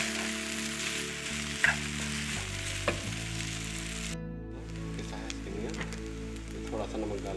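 Egg and vermicelli are stirred in a hot pan, giving a steady frying sizzle with a few sharp scraping knocks, the tone of the hiss changing partway through as the stirring goes on.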